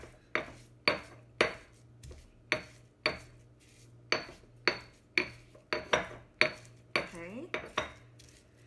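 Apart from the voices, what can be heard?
pestle grinding paste in a mortar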